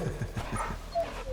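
Torgal, the dog companion in Final Fantasy XVI, lets out a short burst of close, quick barks and yips, brief and fairly quiet.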